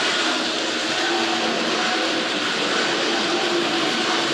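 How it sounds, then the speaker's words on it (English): A constant high whine from the wheels of a Tri-ang R.155 Bo-Bo TC switcher model train pulling hopper wagons, a steady loud drone heard close up without any talk. "they would have driven the staff mad with the constant whine of these wheels in the background here"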